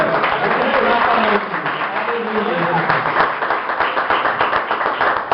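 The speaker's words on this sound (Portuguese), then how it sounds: "Se você buscar, pode aplaudir" Church congregation applauding in a steady, loud wash of clapping, with voices calling out over it throughout.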